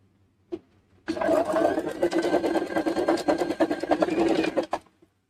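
A sewing machine stitches the crotch seam of a simple salwar in one close, rapid run of needle strokes lasting a few seconds, starting after a brief click and stopping abruptly.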